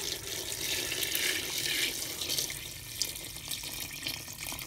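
Water pours steadily from a tap into a pot to cover chicken for a blanquette, a continuous close rushing splash with no pauses.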